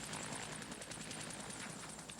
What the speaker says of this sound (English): A helicopter from the cruiser Leningrad teases the American admiral